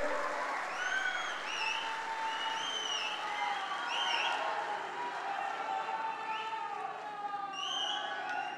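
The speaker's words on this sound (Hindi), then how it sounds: "आप जोर से ताली बजाइए राणे साहब के लिए" A large crowd at an outdoor political rally in Ratnagiri applauds steadily for several seconds, while cheers and whistles rise above the dense wash of clapping.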